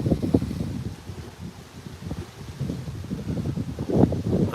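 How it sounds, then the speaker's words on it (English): Wind gusts buffet the microphone outdoors on grass in uneven, rumbling bursts that swell and fade, fairly faint overall. "It's getting quite windy now"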